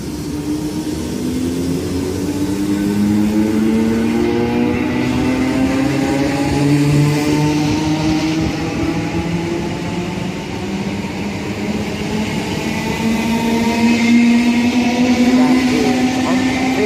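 Two coupled Class 319 electric multiple units pulling out of Elstree & Borehamwood station on the Midland Main Line give rising, layered motor whines climbing steadily in pitch over a rumbling, fairly loud continuous background.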